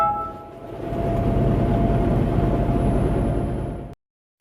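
Heavy traffic rolls past on a road near a former vehicle bridge, a loud broad rumbling roar that swells after a moment and holds steady before cutting off abruptly.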